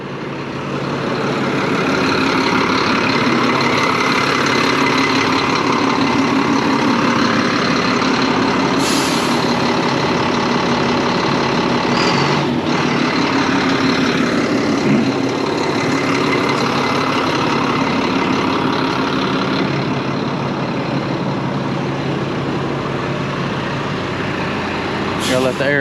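A truck's engine idles with a loud, steady rumble as air pressure builds, punctuated by a couple of sharp air hisses; a person talks nearby over the running engine.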